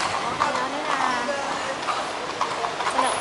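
Horse hooves clip-clop steadily on pavement as a carriage is pulled through Vienna, close and rhythmic, with people talking over it.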